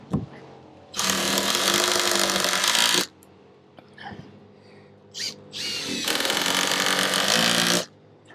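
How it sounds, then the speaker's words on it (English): A power drill driver sinks a screw into the timber window frame of a garden room, two long, loud, steady whirring runs with a short quiet gap and faint knocks between them, close up with no talking. "what I'm going to do now, I'm going to screw that in there."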